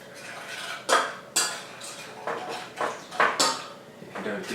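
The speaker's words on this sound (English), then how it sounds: "I'm just going to add a little bit of the milk to start with and just get the custard powder dissolved" A utensil stirs custard powder and sugar into a little milk in a bowl, producing sharp clinks and scrapes at an irregular pace, fairly close and alone.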